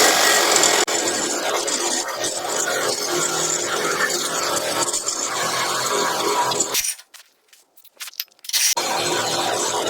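A saw blade grinds through a stuck steel lower control arm bolt on a Ram truck: continuous close rasping that cuts out briefly near the end, then resumes.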